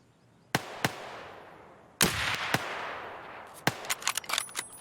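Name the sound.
gunshots from Escape from Tarkov video game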